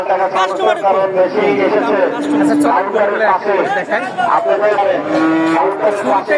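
Cattle, including young heifers, low and moo repeatedly at the busy Talgachhi animal market in Sirajganj, with loud nearby calls layered over constant chatter from buyers and sellers.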